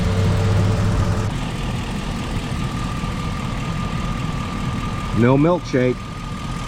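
A car engine idles steadily as it warms up, a constant low rumble close by, while a person briefly speaks over it near the end.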